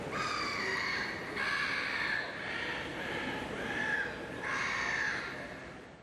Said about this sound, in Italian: Il silenzio è rotto solo dal verso di un gabbiano, dai rumori di un cantiere